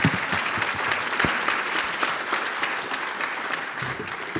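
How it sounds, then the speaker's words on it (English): An audience claps warmly, a dense, steady round of applause that carries on evenly for several seconds. "I hope that you will join me in giving a warm round of applause to our panelists"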